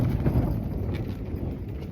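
Extreme wind buffets a bell tent at night in Scotland, a steady, loud low rumble and flapping roar with gusty swells and no pause.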